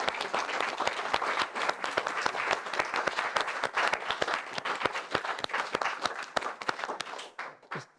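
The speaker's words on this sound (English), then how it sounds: "I think he deserves a round of applause." Audience applause fills the room at a community gathering, a dense steady wash of many hands clapping for about eight seconds before tapering off at the end, with no talk over it.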